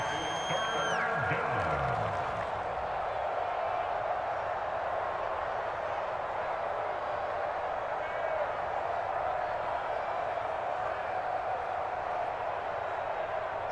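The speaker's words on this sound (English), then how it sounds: "The Arrowhead crowd in full roar." Stadium crowd roaring at Arrowhead in the Madden NFL 25 football video game, a dense, continuous wash of loud cheering that holds steady throughout, with brief electronic tones near the start.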